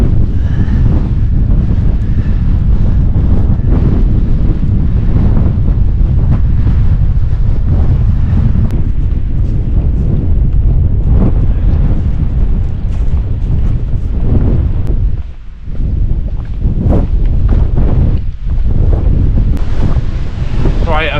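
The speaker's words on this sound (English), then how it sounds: "Now the wind is coming over and it does feel like it feels like 60 mile an hour" Strong mountain wind roars continuously across an exposed fell near Brim Fell in the Coniston area, buffeting the microphone with loud, dense rumbling gusts that barely ease for the whole stretch.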